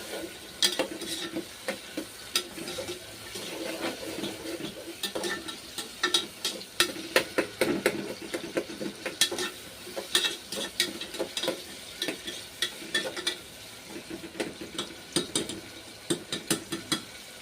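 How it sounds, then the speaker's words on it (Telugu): Green beans and other vegetables fry in oil in a pan while being stirred, giving a soft continuous sizzle broken by frequent scraping and clinking stirs. "ఇలా కొంచెం లైట్గా వేగాలి. వేగిన తర్వాత మనం పెట్టుకున్న గ్రీన్ బీన్స్ కూడా ఇందులో వేసుకోవాలి."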